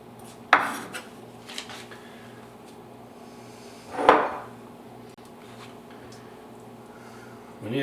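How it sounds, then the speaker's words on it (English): A knife chops fresh basil leaves roughly on a board, giving two sharp, close knocks several seconds apart against a quiet kitchen background. "Let's give it a bit of a rough chop."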